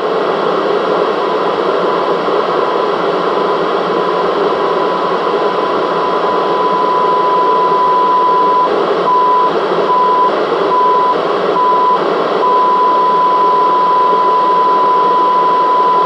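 A weak test-generator tone at 145 MHz received on a Yaesu FT-7900 radio, a steady thin whistle buried in loud continuous receiver hiss, with faint pulsing toward the end.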